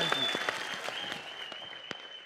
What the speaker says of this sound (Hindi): जोरदार तालियां सिकंदर के लिए